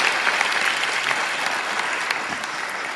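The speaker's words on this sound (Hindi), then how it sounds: "तो ताली बजाओ भाई," Students in a classroom or hall applaud, a continuous rattle of many hands clapping at moderate volume, steady for the whole stretch.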